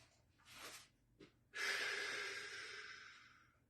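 Close, audible breaths during a flexibility and balance routine: a short exhale, a quick sniff, then a long sustained exhale trailing off, with no talking.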